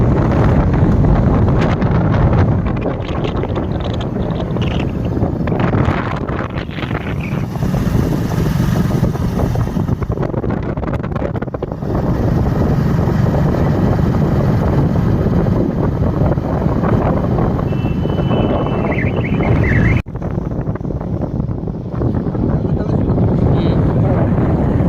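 Steady, loud wind buffeting a microphone on a motorbike ride along a road to a fair, broad rumbling roar filling the whole stretch with a brief dip near the end.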